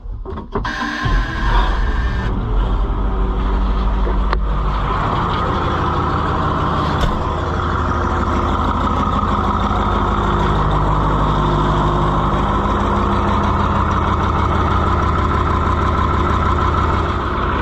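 A tractor engine idles steadily and loudly throughout, a low rumbling drone with a brief rattle near the start and no talking.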